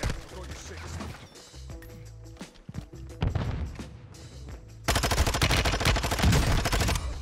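Kastov 762 assault rifle gunfire in a Call of Duty-style shooter, rapid full-auto bursts in several strings with short pauses, loud and close, the last burst longest, with faint game ambience between.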